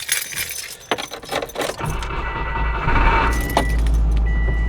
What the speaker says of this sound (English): Let's see if I can go ahead and start the car.